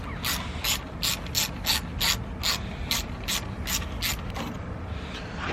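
Hand ratchet working on turbo bolts of a Honda Civic, about a dozen crisp clicking strokes in a steady rhythm, close and clear with no talking.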